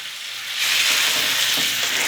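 Turkey fillets browning in a hot pan give off a loud, steady sizzle that swells about halfway through and then holds as a dense frying hiss, with no voices.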